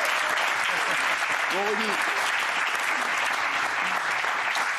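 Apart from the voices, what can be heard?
studio audience applauding Rudy Gobert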